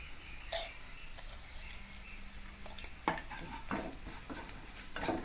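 Salt, pepper and seasoning stirred through sautéed greens in a hot pan, a steady sizzle with occasional scraping clicks of the spoon, close and moderately loud, no voices.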